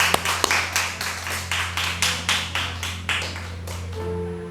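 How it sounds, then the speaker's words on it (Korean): Congregation clapping in rhythm at the close of a church worship service, steady evenly spaced claps about every third of a second over a sustained electronic hum, fairly loud and near. "우리 예배를 마치 하나님께 영광의 박수 올려드리겠습니다."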